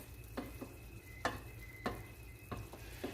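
Ingredients for Puerto Rican-style black beans sauté quietly in a pan, a faint steady sizzle punctuated by about five soft utensil taps or scrapes spaced roughly half a second apart, with no talk.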